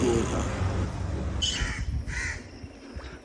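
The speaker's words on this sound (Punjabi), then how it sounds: "ਆਵਾਜ਼ਾਂ ਦੇਖੋ ਕਿੰਨੀਆਂ ਸੋਹਣੀਆਂ ਲਾਦੀਆਂ ਪੰਛੀਆਂ ਦੀਆਂ" Crows caw and other birds call in short bursts beside a canal, over a steady outdoor rumble of background noise.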